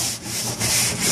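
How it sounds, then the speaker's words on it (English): A hard scrubbing brush rubs steadily across the surface of an aquaponics tank during cleaning, a loud, close, continuous rasping scrub with slight back-and-forth surges and no voices. "I have a nice hard scrubby brush."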